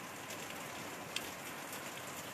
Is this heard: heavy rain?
yes